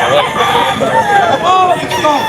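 A rooster at a pet market crows loudly and close by in repeated wavering calls, with people talking underneath.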